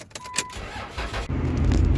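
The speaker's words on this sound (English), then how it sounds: "All right, truck 1 is leaving." A truck from a hotshot trucking fleet starts up and pulls away, with a keys jangle and brief clatter early on, then the engine rumble swells loud and steady close by.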